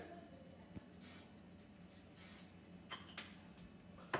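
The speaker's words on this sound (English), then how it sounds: "spray the frying pan with an all-purpose cooking spray" A few short hissing sprays of all-purpose cooking spray from a can into a frying pan, quiet and close, separated by pauses against a low background hum.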